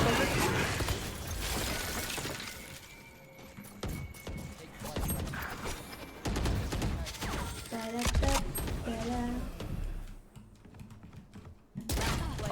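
Gunfire in the video game Valorant, rapid bursts and clattering shots mixed with mechanical game effects over a dense, loud soundscape, with a voice talking at times.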